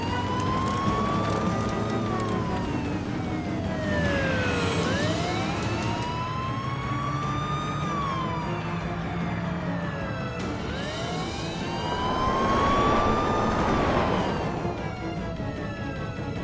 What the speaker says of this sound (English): now we're caught up in a high-speed car chase